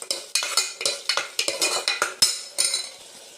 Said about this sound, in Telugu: పచ్చివాసన పోయేంత వరకు కొంచెం ఈ మసాలాను అయితే ఇలా ఫ్రై చేసుకోవాలండి.